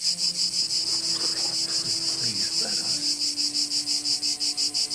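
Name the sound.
crickets or cicadas chirping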